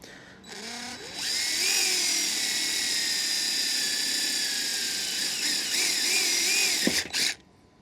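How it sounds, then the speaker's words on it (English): A power drill whines steadily at high speed for several seconds, drilling 3/32-inch pilot holes for mounting solar panels, pitch wavering slightly as it bites, then winds down and stops. "So I'm just going to go around and drill these 3/32 pilot holes on everything."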